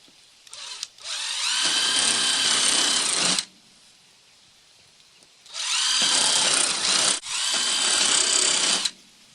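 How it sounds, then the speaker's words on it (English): A power drill with a 1/8-inch bit whines in three loud, steady bursts of a few seconds each, separated by quiet pauses. "1/8-inch drill bit"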